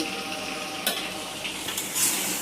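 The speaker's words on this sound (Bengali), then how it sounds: "এখন নাড়তে হবে একটু ঘন ঘন" Meat being stirred in a cooking pan, a steady sizzle with a few sharp scrapes and clinks of the spoon against the metal, close by and with no talking.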